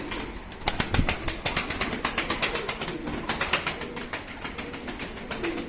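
Pigeons in a coop, including a blue crested female, with repeated rhythmic wing flaps and fluttering close by over a steady background, without speech.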